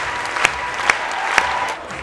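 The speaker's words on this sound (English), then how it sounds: "Let's give Tracy Langley a big round of applause as she comes to the stage" An audience at the OnStage Live Dortmund 2019 stage event claps for Tracy Langley, a brief wash of applause with a few sharper claps standing out.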